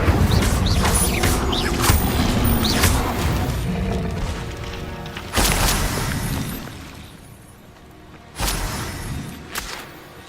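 Incendio fire spell cast in Hogwarts Legacy, a loud burst with crackling, mechanical clatter and debris, followed by sharp impacts around the middle and end, no talk.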